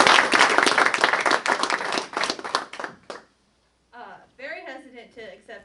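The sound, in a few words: audience applause at award ceremony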